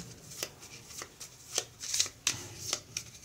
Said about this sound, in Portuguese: Embaralhar as gemas também.